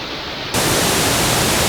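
A woodland waterfall at Tower Woods, among ferns, sets in abruptly after a brief quieter moment and then roars as a steady, loud, even rush of falling water with no voices.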